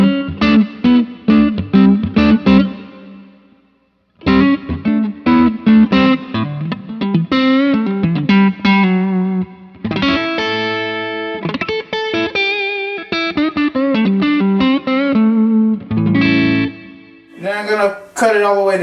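Electric guitar played through a Fender Bassbreaker 15 amp on its low setting with reverb at 12 o'clock, a run of close, loud picked notes and chords with a brief pause and a ringing reverb tail.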